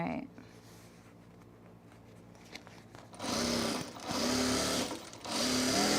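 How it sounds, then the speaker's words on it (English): A sewing machine stitches fabric onto vinyl in short, loud bursts of rapid stitching separated by brief pauses, following a quieter stretch of handling noise at the start. "sewing on the vinyl, so I'm just kind of pushing it like this to make sure that it doesn't make the fabric slide on the vinyl"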